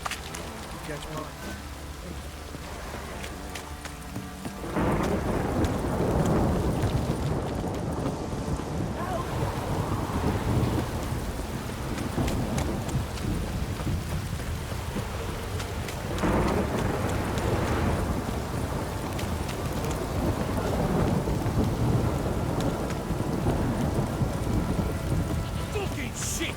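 Steady rain hisses throughout while low thunder rumbles build and roll in surges in the video game The Witcher 3: Wild Hunt, with a quieter stretch at the start.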